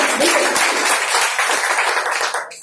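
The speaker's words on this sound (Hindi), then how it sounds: "ताली हो जाए" Audience applause at a business seminar, a dense, loud wash of many hands clapping that fills the moment and tapers off abruptly at the end.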